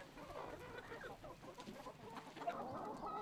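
Chickens cluck and murmur continuously inside a small free-range egg farm in Suwa, a steady busy flock chatter at moderate distance with no talking.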